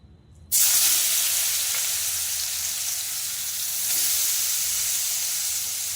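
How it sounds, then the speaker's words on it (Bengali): Chopped ash gourd dropped into hot oil in a pan, a sudden loud burst of sizzling after a quiet start, then a steady close hiss continuing to the end. "এবার চাল কুমড়ো কুচানোটা দেবো"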